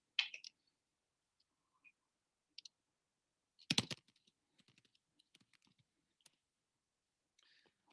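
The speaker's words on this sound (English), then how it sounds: "I'm going to type in some books here as well really fast" Quick bursts of typing on a computer keyboard, sparse clicks and short clusters of keystrokes separated by quiet gaps, one louder flurry near the middle, faint and close, with no talking.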